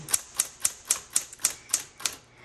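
A 1970s Smith Corona Electra 210 electric typewriter types in a quick, even run of about nine sharp key strikes, close and crisp with nothing else around them.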